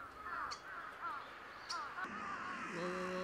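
A flock of crows caws over a residential street in Koshigaya, Saitama, with several harsh, repeated caws from more than one bird at moderate distance, overlapping in an irregular rhythm above a low background murmur.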